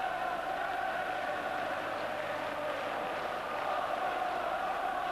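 A big home crowd of Rangers fans keeps up loud, continuous vocal support inside the stadium on a night game against Sparta Prague, a broad, unbroken roar with no pauses.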